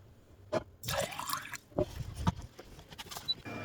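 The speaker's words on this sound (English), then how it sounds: "So let's go ahead and put some water in here and get it started." Water is poured into a small electric kettle in short splashing bursts with trickles and drips between them, close and fairly quiet, with no voices.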